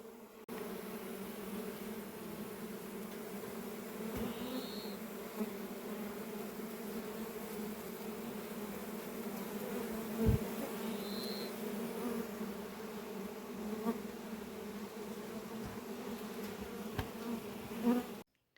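A steady, low buzzing of many bees around beehives hums throughout, fairly quiet and even, with a few faint knocks and bumps along the way.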